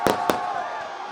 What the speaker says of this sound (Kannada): ನಾನು ಮಾತಾಡೋ ಟೈಮ್ಗೆ ಪಟಾಕಿ ಹೊಡೆದವ್ರು ಇವರು